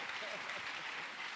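A church congregation applauding to acclaim God, a dense, steady roar of many hands clapping at once that fills the room throughout.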